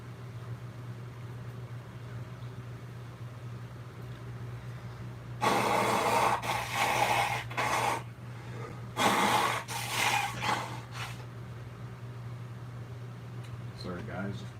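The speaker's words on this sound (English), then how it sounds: "Sorry guys, blowing my nose." A person blows their nose in two forceful bursts of rough, breathy honking, close to the microphone over a constant low electrical hum, with long quiet stretches before and after.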